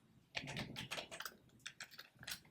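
C code is typed on a computer keyboard in rapid, uneven bursts of close, clattering keystrokes, alone and continuous.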